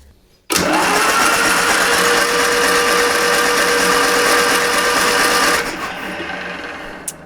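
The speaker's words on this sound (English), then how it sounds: "And we're cranking it, that'd be a good sign." A seventy-year-old, never-used Rolls-Royce crate engine cranks over steadily for about five seconds, a loud continuous whirring, grinding drone that starts abruptly after a quiet moment and then cuts off, leaving a faint fading tail.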